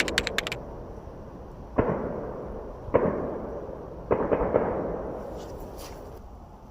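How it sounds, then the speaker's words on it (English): Outdoors in a garden, a handful of sharp gunshot-like bangs crack at intervals, each trailing a fading echo, moderately distant and fairly loud against a quiet background. "What is going on? Who's shooting?"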